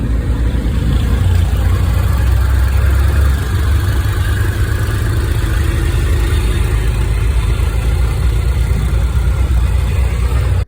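A tuk-tuk auto rickshaw engine running in Agra, India, a loud continuous low rumbling drone from inside the vehicle, steady throughout without speech.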